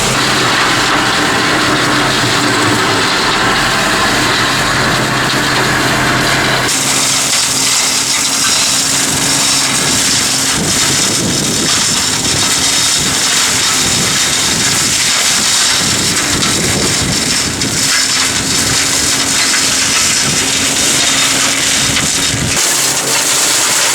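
Tractor-mounted Bomford hedge cutter trimming a hedge on a second pass, a loud continuous engine drone and flail roar with a broad harsh wash of noise that shifts in tone partway through, steady and close with no talk.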